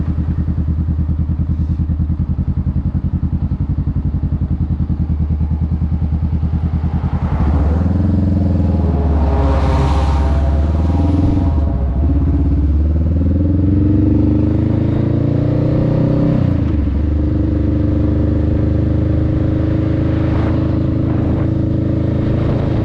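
A motorcycle carrying a passenger rides along with a loud, close engine drone and wind rush, revving up and shifting through rising and falling pitch sweeps over about twenty seconds.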